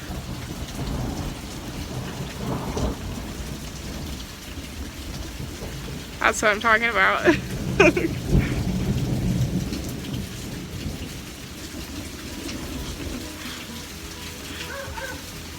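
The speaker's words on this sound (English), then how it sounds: "It's already starting to get like more stormy. I don't know if you can hear." A thunderstorm rolls over a campsite: rain patters steadily while a rumble of thunder swells through the middle, and a person speaks briefly.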